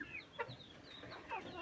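Several farm chickens clucking in short, scattered calls close by, with no talk over them.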